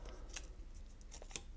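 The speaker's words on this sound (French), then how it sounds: "je vais découper mon scotch" Scissors cut masking tape used to protect a bicycle fork before repainting: a few quick, faint snips in a quiet room with no talking.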